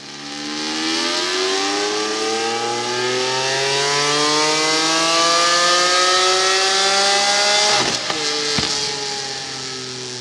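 A naturally aspirated Lamborghini Aventador V12 with a concept exhaust revs up steadily under load on a dyno, its loud whining roar climbing in pitch for several seconds before abruptly cutting back.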